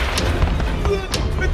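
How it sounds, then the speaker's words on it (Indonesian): Muffled booms and thuds go off in quick succession over a dense, noisy background, like small explosions popping one after another. "mereka meledak satu persatu."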